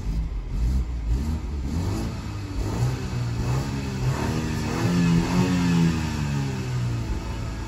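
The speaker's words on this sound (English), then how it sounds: "Time to hear the engine." BMW X3 G01 engine revving in sport plus mode, a mid-pitched drone with rising and falling harmonic sweeps as the revs climb and settle, heard clearly and alone from the cabin.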